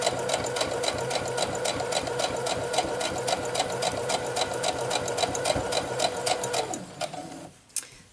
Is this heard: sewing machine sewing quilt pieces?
yes